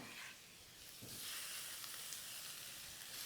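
Pork sizzling hard in a hot wok over medium-high heat, a steady bright hiss that swells after the first second and holds, with faint stirring scrapes and no talk.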